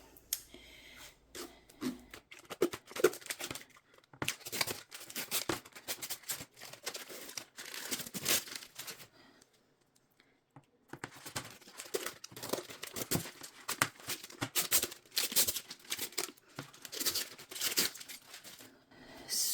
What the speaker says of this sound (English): But once again, we have to peel off the protective film.